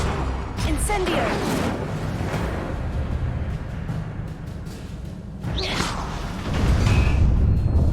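Incendio fire spell cast in the video game Hogwarts Legacy: loud whooshing bursts of flame in two main surges, a sustained roaring rush in the middle and a heavier blast toward the end.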